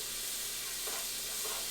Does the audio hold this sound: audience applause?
no